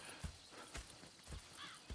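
Hooves clip-clop at a steady walking pace in Red Dead Redemption 2, about four hollow thuds over a brief stretch, with a faint whinny near the end.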